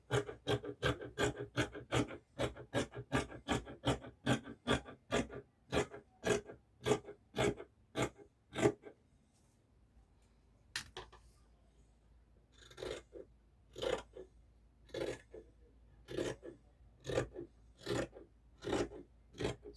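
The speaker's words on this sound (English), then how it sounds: "Now we'll go ahead to cut this piece out." Scissors snip through fabric for a gown in rapid, evenly spaced cuts, then pause briefly before resuming in a slower, steadier series of crisp close snips.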